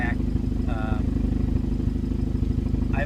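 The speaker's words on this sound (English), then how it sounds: "I've actually got a Borla exhaust, quad tip. It's got a nice growl to it." Low, steady rumble of a 2012 Hyundai Sonata 2.0T idling after a remote start, breathing through a Borla quad-tip catback exhaust, a continuous near growl with brief harmonic chirps over it.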